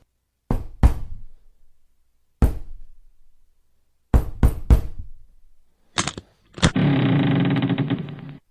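Sharp knocks rap on a wooden trap door to a loft in groups of two, one and three, followed by heavier thuds and a rough scraping rumble.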